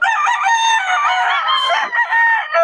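Chickens at a market, several birds clucking and crowing loudly and close, overlapping calls filling the whole stretch.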